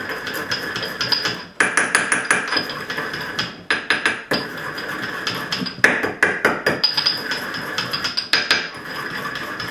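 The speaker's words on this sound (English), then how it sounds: "So that's what I'm doing when I'm hitting it this way, is to break the material free from the pipe cap." Rapid, close metallic hammer blows crushing turquoise inside a metal pipe cap, landing in quick bursts with brief pauses between runs.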